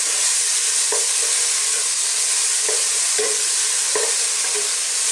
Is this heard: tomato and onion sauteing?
yes